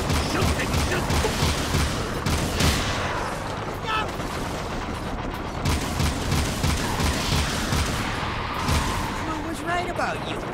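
Rapid gunfire and blasts in the video game Jak II, dense continuous bursts with layered explosions and shouting voices mixed in over a busy battle background.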